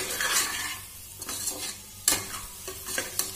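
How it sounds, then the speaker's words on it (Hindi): Soybean chunks roast in a pan with salt and turmeric, a close sizzle broken by repeated spoon scrapes and stirring strokes that come in short bursts throughout. "नमक भी और हल्दी भी डाल के हिसाब से और इसे भून ले रही हूँ मैं"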